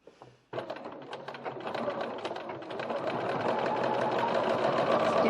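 A sewing machine stitching around the zipper pocket window on the interior of a bowler bag, starting abruptly after a brief quiet moment, then running as a steady close whirring, rattling hum that builds slightly in loudness, with no talking.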